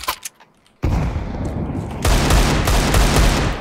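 Rapid automatic AK rifle fire in Counter-Strike 2 bursts in loudly after a brief quiet moment, then continues as dense, sustained gunfire with overlapping shots.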